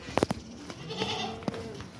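A male goat tethered by a chain on a farm bleats in short, close bursts: two quick calls near the start and one more about a second later, over quiet background noise.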